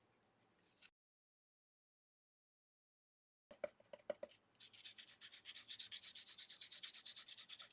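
Paint or paste dry-rubbed onto a paper mixed-media tag, faint at first, then a pause, then a run of quick, rhythmic rubbing strokes that grows steadier and louder.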